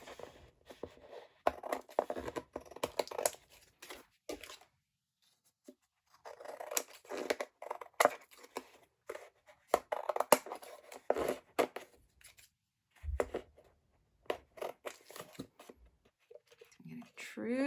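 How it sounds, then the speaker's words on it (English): Overhanging paper edges being trimmed from a 12x12 cascading scrapbook layout: short, crisp cutting and rustling bursts in clusters, with quiet pauses between, close and fairly soft. "I'm just going to trim off"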